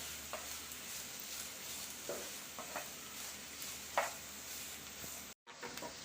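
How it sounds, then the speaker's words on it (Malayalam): A large sliced onion softens in a pan for chicken dosa, a soft continuous sizzle with a few faint stirring taps, fairly quiet and close, briefly cutting out near the end, no voices. "നമുക്ക് ഇതിലോട്ട് സവാള ചേർത്ത് കൊടുക്കാം."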